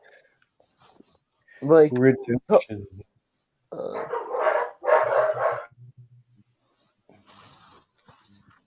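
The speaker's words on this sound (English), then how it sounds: "What was that? That was a dog all the way in the back." A dog barks somewhere in the background of a room, a few short, rough bursts that sound fairly distant, mixed in with scattered speech and quiet stretches.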